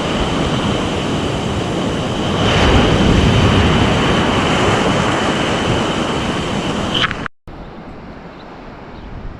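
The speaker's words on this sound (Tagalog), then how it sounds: "kinakaladkad ng alon" Ocean surf rolls heavily over a fishing net being dragged along by the waves, a loud continuous wash with swelling surges that cuts off abruptly near the end.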